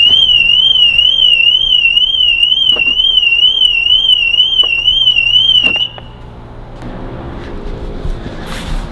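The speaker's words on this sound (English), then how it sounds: "when we open it up, I presume the alarm's going to go off" A 2025 BMW 2 Series car alarm blares close and loud as a warbling electronic tone for about six seconds, then cuts off, leaving quiet handling noises.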